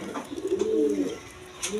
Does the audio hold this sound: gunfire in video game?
no